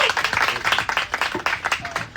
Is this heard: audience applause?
yes